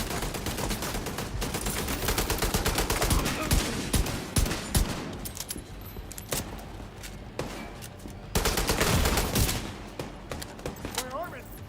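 Rapid gunfire from The Division 2's Battle for Brooklyn mode, with dense automatic bursts and heavy thuds running continuously at close range, swelling louder in places, while voiced callouts play over it.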